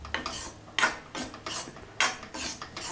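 A ladle presses and stirs besan (gram flour) as it roasts in a pan for besan laddu, making close scraping strokes in an uneven rhythm of about six bursts.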